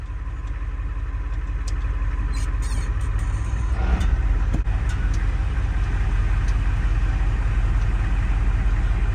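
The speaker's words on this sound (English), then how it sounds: "let's take it for a little spin, see how it is in 4 low." A 1973 Ford F250 pickup creeps along slowly in four-wheel-drive low range, its engine holding a steady low idle-like rumble throughout, loud and close with a brief scrape partway through and no talking.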